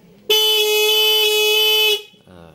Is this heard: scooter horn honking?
yes